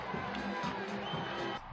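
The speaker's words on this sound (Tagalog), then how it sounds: "dumagundong ang hiyawan ng fans na excited manood ng live ng paghaharap nila ni Alicia Parks" Crowd of tennis fans at the Canadian Open in Toronto cheering and shouting as Alex Eala walks onto court to face Alycia Parks, a faint, steady hubbub of voices filling the stadium.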